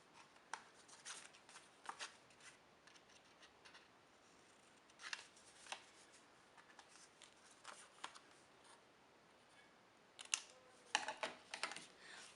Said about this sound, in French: Vous pouvez découper les petits morceaux de chaque côté.